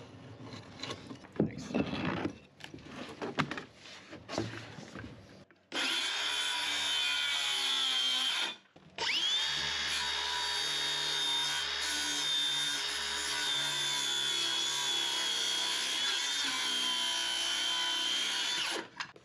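Jigsaw cutting wood on a carpentry job, a loud steady buzzing cut running about three seconds, a short pause, then a long continuous cut; scattered knocks and handling noise come before it.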